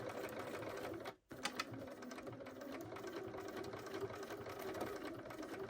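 Sewing machine stitching a zip pencil case, a rapid mechanical whirr of needle strokes that stops briefly near the start, then runs on steadily, close and moderately quiet.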